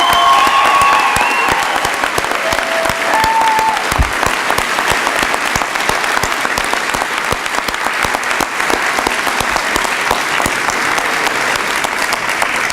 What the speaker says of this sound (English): Please join me in another round of applause for all of our students.